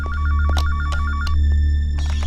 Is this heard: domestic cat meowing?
no